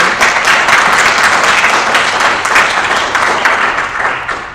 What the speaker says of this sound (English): I'd like to give applause to my panelists